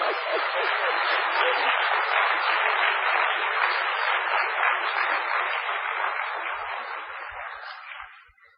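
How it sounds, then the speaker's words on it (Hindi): Applause from a spiritual gathering's audience listening to Dadi Prakashmani, a dense, steady wash of many hands clapping for about eight seconds before tapering off near the end. "हाँ खूब तालियां बजाओ"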